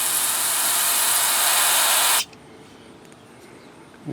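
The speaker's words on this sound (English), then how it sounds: "I'm going to go ahead and put some carburetor cleaner through there." Carburetor cleaner sprayed into the plugged carburetor of a Murray snow blower that won't start: a loud, steady, close hiss for about two seconds that cuts off abruptly, leaving quiet room tone.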